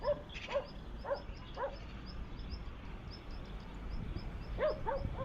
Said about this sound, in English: Goddamn dogs.